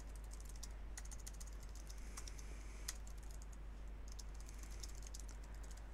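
Steady typing on a computer keyboard, a continuous patter of light key clicks at close range with a few louder taps, quiet and alone without voices.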